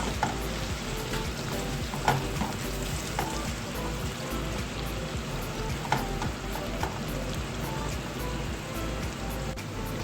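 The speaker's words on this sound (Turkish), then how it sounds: "koymuş olduğumuz soğanları Yağımız da güzelce terbiye ediyoruz." Steady, dense sizzling of onions frying in oil, with occasional sharp pops and clicks; close and continuous, no voices.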